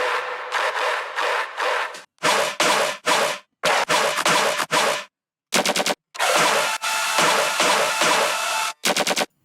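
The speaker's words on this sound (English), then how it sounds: "so it's more of a noisy bass. And it sounds like this." Harsh, noisy distorted bass synth in choppy, stuttering bursts, loud and gritty, cutting in and out with brief silences between phrases.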